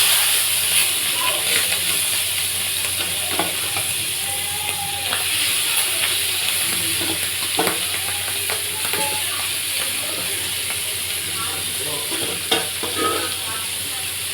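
Prawns fry in a pan, giving a continuous bright sizzle and hiss with occasional scraping stirs and small pops, close and steady throughout.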